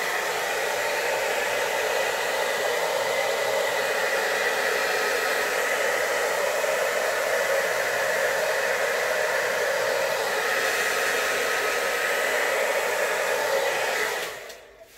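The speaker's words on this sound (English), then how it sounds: "I just mainly want to blow the cell activator out and then let it come back in." A hair dryer blows air over an acrylic pour painting to spread the cell activator. Its loud, steady whoosh runs continuously, then cuts off near the end.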